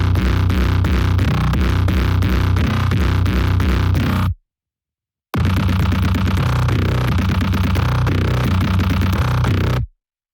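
Heavy FM synth bass patch built from a kick drum sample, with strong low fundamentals, pounds out a loud, dense repeating pattern, drops out for about a second midway, then comes back just as loud before stopping.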